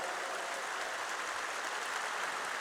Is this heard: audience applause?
yes